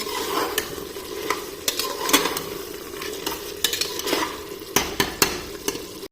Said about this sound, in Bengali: আমি মাটনটাকে একদিকে কষাতে দিলাম কষাতে দিচ্ছি আস্তে আস্তে কষছে